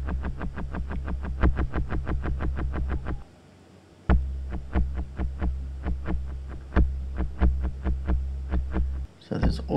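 Rapid plucked notes pass through the early-reflections reverb effect of a Strymon Timeline pedal, giving dense, buzzy echoing pulses that stop briefly, then resume in a looser rhythm.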